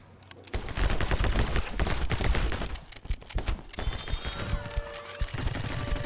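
Rapid video game gunfire from My Friend Pedro, dense bursts of shots and impacts rolling almost continuously, loud and close, with game effects and music layered underneath.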